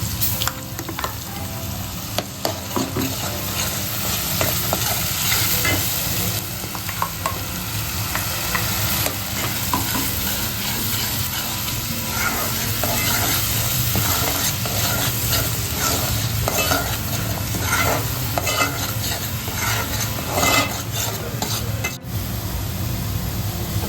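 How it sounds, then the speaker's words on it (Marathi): Fish curry base sizzling hard as a paste of fresh coconut, tomato and onion goes into the hot pan, a dense continuous hiss with constant stirring scrapes throughout. "वाटणामध्ये ओलं खोबरं टोमॅटो आणि कांदा ह्याचं वाटण केलेलं आहे ते आपण घालणार त्याच्यात"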